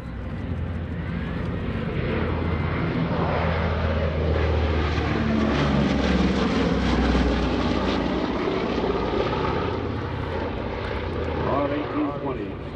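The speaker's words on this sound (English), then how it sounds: "Let's listen to four big radial engines." A WWII four-engine bomber or transport with big radial engines flies past at an air show, a loud sustained propeller drone that swells and holds throughout.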